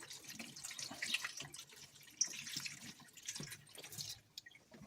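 Water pours into a Samsung Ecobubble washing machine, a faint, uneven splashing and trickling with small drips and one sharper splash, heard at a low level throughout with no voices.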